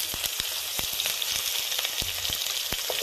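Crushed garlic sizzles in hot oil, a dense, steady frying hiss with sharp crackles and pops scattered throughout, close and fairly loud, with no talking.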